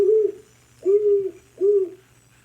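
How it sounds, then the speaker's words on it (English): Played recording of a great horned owl giving three deep, soft hoots in a slow even rhythm, clear and close with quiet gaps between each call and no talk. "great horned owls, I feel like if you're thinking of a generic owl hoot, like they are the generic owl hoot"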